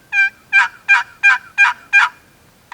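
A wooden turkey box call on its higher-pitched side gives six evenly spaced, loud, raspy yelps in a quick series, close and alone.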